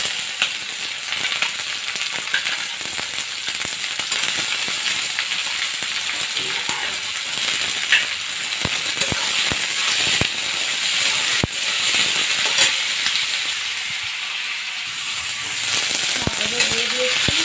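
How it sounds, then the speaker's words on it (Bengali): Potatoes with onion frying in a pan for poha, a steady broadband sizzle running throughout with scattered clicks and taps of stirring, close and moderately loud, with no talking. "এভাবে সব কিছু দিয়ে ভেজে নেব।"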